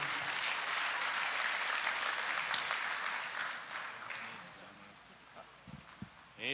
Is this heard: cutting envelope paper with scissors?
no